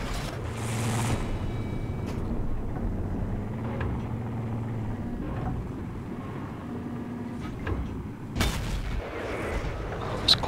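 A tank's main gun fires at a KV-4 tank in a video game, heard as sharp cracks and booms, including a loud blast near the end, over a constant low engine rumble, with no talking.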